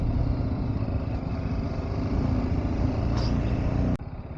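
A motorcycle on a ride through Munnar overtakes a Royal Enfield Bullet rider, with a continuous loud engine drone and steady road and wind roar close by, followed by a sudden drop in level near the end.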